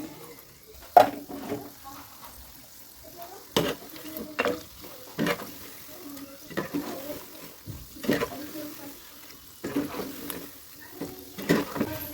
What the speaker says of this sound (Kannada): ಎರಡೂ ಕಡೆನೂ ಸ್ವಲ್ಪ ಕಲರ್ ಚೇಂಜ್ ಆಗೋವರೆಗೂ ಫ್ರೈ ಮಾಡಿಕೊಂಡ್ರೆ ವಡೆ ರೆಡಿ ಆಗಿಬಿಡುತ್ತೆ